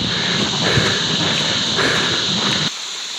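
A mountain stream of glacier meltwater rushes in a loud, close, steady hiss that drops suddenly to a quieter level near the end, with no talking.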